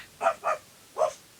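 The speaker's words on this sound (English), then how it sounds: "That's a dog, I tell you, a dog barking behind the wall." A dog barks three times behind a wall, the first two in quick succession and a third after a pause, sounding muffled and somewhat distant against a quiet background.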